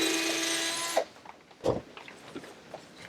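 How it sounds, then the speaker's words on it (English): A steady, whining power drill runs for about a second into wood, then stops, followed by a few scattered knocks and scraping handling sounds. "the reason I'm going in and out here is to clear the drill bit from debris so we can go through"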